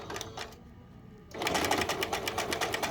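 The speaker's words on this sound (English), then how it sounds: "And we just sew straight down, back stitch" A sewing machine stitching fabric straight down a seam for a small bear vest, starting with short bursts, then a steady close rapid mechanical whirr of needle strokes.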